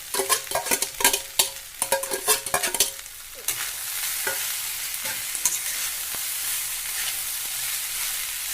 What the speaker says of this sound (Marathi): उरलेला जो आपला रात्रीचा शिळा भात आहे तो यामध्ये ॲड करून घ्यायचा